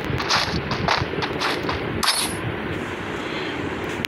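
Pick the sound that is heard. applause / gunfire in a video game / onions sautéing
gunfire in a video game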